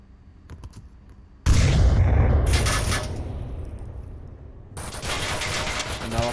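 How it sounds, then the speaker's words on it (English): A C4 charge blasting in the Onward VR shooter game, a sudden loud explosion with a long rumbling decay, followed by more noisy gunfire-like bursts. "Another C4 is blasted."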